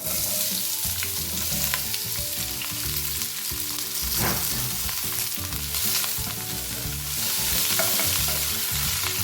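Cut vegetables and whole spices fry in a hot pan for vegetable biryani, a steady dense sizzle with repeated scraping stirs throughout, close and loud, no talking.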